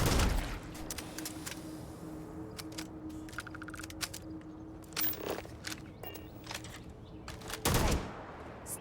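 Sci-fi weapon shots crack out in a Starfield firefight, with a few loud, sharp bursts spaced several seconds apart over a low, steady ambient hum.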